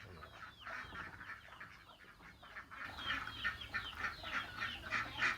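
Chickens cluck and chatter continuously at a small backyard duck-raising farm, faint and somewhat distant with overlapping calls.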